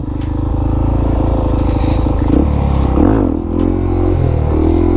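Suzuki DRZ400SM supermoto engine running in first gear at low speed, a loud steady drone whose revs sag and drop partway through, then settle back into a lower idle-like hum, heard up close with no talking.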